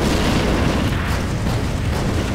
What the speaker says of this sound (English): So that one was a phosphorus grenade from the Urban Doctrine.